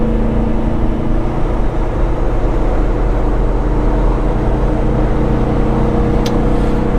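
A 2018 Peterbilt 389 truck with an 18-speed transmission runs under load, its engine giving a loud, steady, humming drone close by, with no clear throttle blip standing out.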